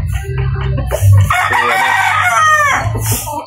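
A five-month-old Kanawayon Hennie crossed with regular grey rooster crows loud and close. The single crow is strained and immature, starting with a few clucks and ending with a short clucking call.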